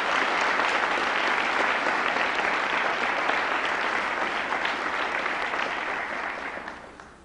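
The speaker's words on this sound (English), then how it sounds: "Graduates, please, if you would, give your parents a large round of applause because they deserve it" Graduates at a Bishop Eustace Preparatory School 2003 graduation ceremony applaud their parents in a loud, dense, sustained ovation that fills the hall and gradually fades near the end.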